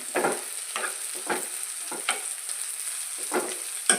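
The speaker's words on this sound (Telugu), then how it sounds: "చూడండి ఉల్లిపాయలు బాగా వేగిపోయాయండి" Onions frying in a pan, sizzling steadily while a spatula stirs them in repeated scraping strokes, close and moderately quiet with no talk.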